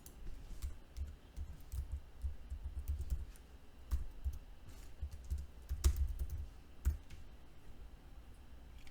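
Clicky typing on a computer keyboard while entering a value into a Java array, a steady run of close, crisp keystrokes with brief pauses, no voices.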